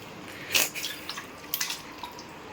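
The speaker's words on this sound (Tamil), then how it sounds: "தண்ணி ஊற்றிக்கிறாங்க." Water poured into a pot while mutton cooks for uppu neer, heard as a few soft splashes and drips, one brief louder pour then smaller spills; fairly quiet, no talk.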